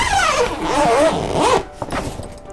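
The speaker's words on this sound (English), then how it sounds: "So it's opens from the zipper." A zipper is pulled open along the door of a Mars Hydro grow tent in one long continuous rasping run, close and fairly loud, followed by a few soft fabric rustles and light handling knocks.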